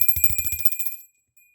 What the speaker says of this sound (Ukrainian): Який дзвоник дзвенить?